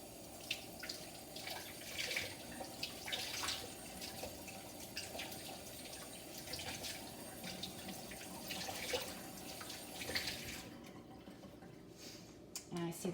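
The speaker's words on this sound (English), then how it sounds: "I'm going to take this over to the sink and I'm going to run it through the tap water" Fabric being rinsed under a running tap in a sink, a steady broadband rush of water splashing and trickling close by, continuous for most of the clip before thinning out near the end.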